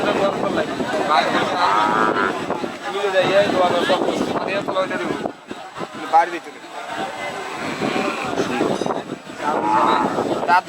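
Cattle moo among a crowd at the Narayan Hat cow market in Bhujpur, Fatikchhari, their low calls mixed with constant chatter and wind noise.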